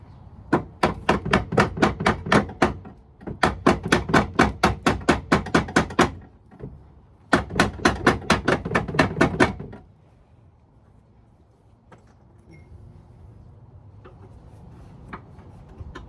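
Rapid bursts of metallic hammer blows on Volvo V70 XT car parts ring out in three long volleys, each a quick steady rhythm, followed by quieter scattered taps and background noise.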